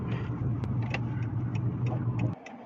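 Inside a car passing beneath the roof of Suvarnabhumi Airport, a steady low engine and road hum runs under faint ticks and clicks, then drops away abruptly near the end.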